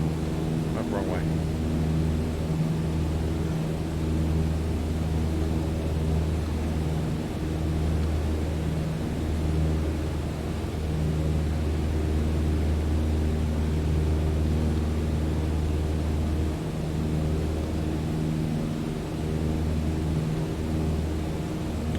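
Steady loud propeller airplane engine drone at wide open throttle in Microsoft Flight Simulator 2020, a continuous unbroken hum running for the whole stretch, with a short bit of talk near the start.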